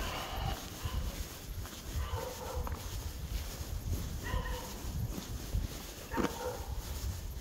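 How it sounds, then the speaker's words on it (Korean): A dog barks several times at a distance, faint and scattered against steady outdoor wind and background noise, with a few soft yips between the barks. "개가 짖는 거."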